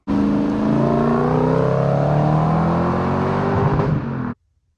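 A turbocharged 450 hp Lexus GS400 engine revs up steadily with a deep, rumbling exhaust note, rising in pitch for several seconds before cutting off abruptly.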